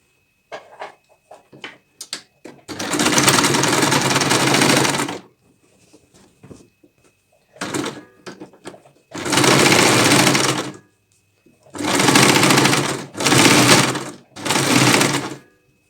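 A sewing machine stitches a patchwork quilt in four loud, steady runs of a few seconds each, separated by pauses filled with quieter handling clicks and fabric rustle.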